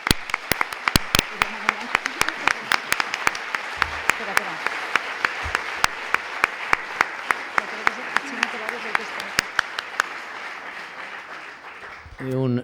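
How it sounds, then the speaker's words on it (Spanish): A crowd applauds steadily for several seconds, with sharp, loud individual claps standing out from the dense clapping before it fades near the end. "Demanem un fort aplaudiment per a Rebeca Plana, present ací a la sala."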